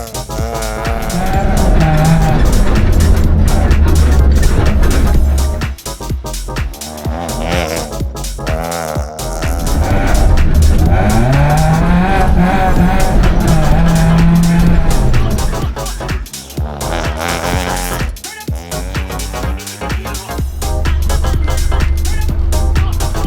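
A rally car laps a short circuit at rally school, its engine roaring loudly and continuously as the revs rise and fall, with tires squealing and skidding through the corners.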